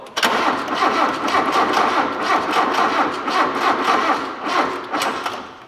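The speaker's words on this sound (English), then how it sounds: "It's turning over. It's not getting fuel, but it's going." An engine cranks over on the starter without catching because it is getting no fuel, a steady loud churning with rapid rhythmic pulses running continuously throughout.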